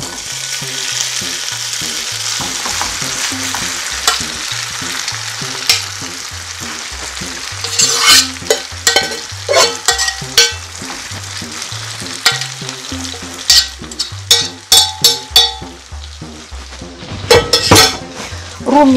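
A vegetable mixture with starch, pressed into an even layer, fries in oil in a pan, giving a steady close sizzle throughout, with scattered clinks and scrapes of a utensil against the pan in the second half.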